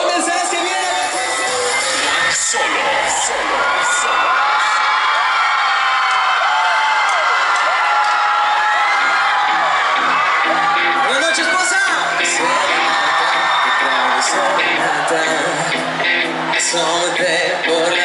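A concert crowd of fans screams, whoops and cheers loudly and continuously as a band is awaited backstage, the dense roar of voices filling the whole stretch with swelling shrieks.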